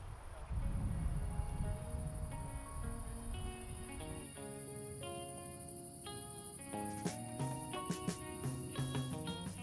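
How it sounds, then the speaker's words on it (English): Crickets chirp steadily in pre-dawn sagebrush under a light breeze, a dense chorus of high trilling that holds throughout, with scattered tonal calls and soft rustling mixed in. "the cries of crickets accompanied the rustles of the sagebrush in the pre-dawn breeze"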